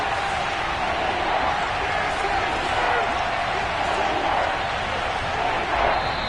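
A football stadium crowd sends up a dense, loud, continuous roar that swells slightly at moments, with a faint rhythmic thumping mixed into the wash of noise.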